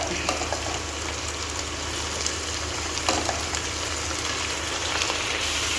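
Onion sautéing with ginger garlic paste for chicken biryani, a dense, steady close sizzle throughout with a few light scrapes mixed in.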